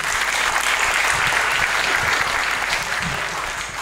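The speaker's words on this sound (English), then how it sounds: "Applause for him." Audience applause fills a conference hall at a business talk, steady dense clapping sustained throughout, fairly loud and close, with no voices over it.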